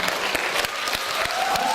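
Audience applause at the Miss Abakhai beauty pageant final, greeting a contest winner: steady, dense clapping from a crowd filling the whole moment, with a few sharper claps standing out.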